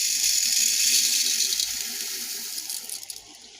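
Tap water runs into a bowl of biuli dal being washed, a close, steady splashing hiss that fades and turns to intermittent trickles and drips toward the end.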